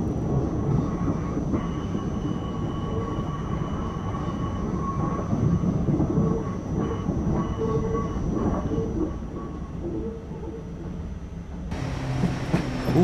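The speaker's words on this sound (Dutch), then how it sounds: "Nou, je krijgt wel de mooie geluiden van de ICM erbij in ieder geval." An ICM train runs in the video game Train Simulator 2022, with a steady rolling rumble, rail clatter and a faint whining tone, continuous and fairly loud throughout, with no talk.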